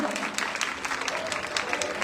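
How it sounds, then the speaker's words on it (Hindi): Audience at a Bali Vadh Ramlila stage performance applauding a scene, a lively crackle of clapping with sharp individual claps popping out over the steady crowd patter. "बेहतरीन सीन के लिए जोरदार ताली डालिए।"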